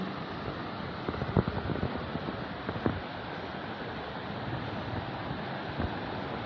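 A river rushes past a campsite in Sto. Niño, Tanay, Rizal as a steady, broad hiss of flowing water, with a few faint knocks and rustles rising briefly above the constant wash.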